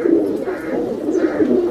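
A male and female pair of Saharanpuri pigeons coo close by, giving low, throaty, repeated rolling coos in a continuous overlapping stream.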